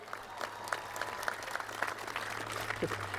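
Audience at the Smithsonian welcoming Space Shuttle Discovery astronauts cheers and applauds in a steady, dense wash of clapping close by, with a low hum running underneath.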